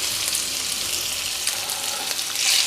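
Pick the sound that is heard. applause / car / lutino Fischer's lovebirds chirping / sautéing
sautéing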